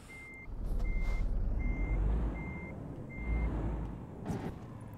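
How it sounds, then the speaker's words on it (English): A truck reverses in Euro Truck Simulator 2, its high steady beeper pulsing five times at an even rhythm over a loud low diesel engine rumble, with a brief hiss near the end. "There we go, we're in reverse now."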